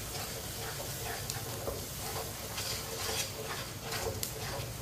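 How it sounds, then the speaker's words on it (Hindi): Okra and eggs are stirred with a spoon while cooking in a pan over low heat. A steady sizzle runs throughout, with soft, close scraping strokes rising and falling over it and no speech. "अंडे डाल के 2-3 मिनट के लिए पका लेना, ऐसे ही चम्मच चलाते हुए।"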